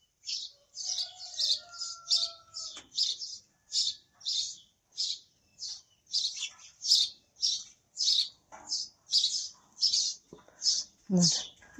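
Young chicks in a Russian village yard chirp repeatedly in quick bursts of high, thin peeps, close by and steady throughout, with a few faint background noises.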